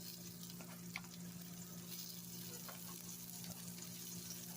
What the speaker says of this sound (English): And I'm going to add my rosemary in the pan with the butter.